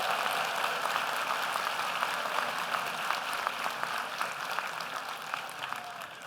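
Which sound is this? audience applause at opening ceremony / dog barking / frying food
audience applause at opening ceremony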